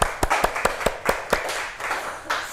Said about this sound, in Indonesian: tepuk tangan untuk yang sudah mau maju